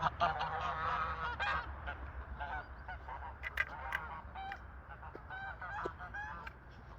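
Geese honk repeatedly in a noisy outdoor flock on a farm, calls overlapping over a low steady rumble, fairly close.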